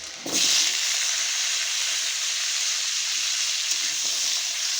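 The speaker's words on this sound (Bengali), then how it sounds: "এখন কড়াইতে দিয়ে দিয়েছি তেল, তেলের উপর দিয়ে দেবো জিরে। জিরে ভাজা হয়ে যাচ্ছে" Steady, loud sizzling of cumin seeds frying in hot oil in a wok, a continuous crackling hiss that starts abruptly and holds throughout, with no voices.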